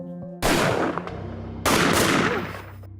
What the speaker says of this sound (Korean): 이거 총소리 아니에요?